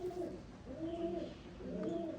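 Andhra pigeons, a black pair kept indoors, give three soft, rolling coos in a row, close but quiet.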